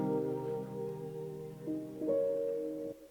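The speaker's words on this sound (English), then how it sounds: "So I added this Valhalla on there and just automated the mix knob up for the last chord" A sustained R&B chord rings out alone, its tones layered and smeared by a large Valhalla reverb tail that swells as the mix rises, shifting once or twice before cutting off after about three seconds.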